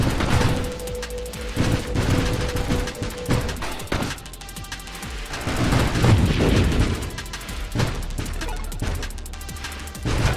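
Shooting in the space arcade video game Nova Drift: a dense, continuous barrage of rapid blasts, crashes and booms, loud and close, with little let-up across the stretch.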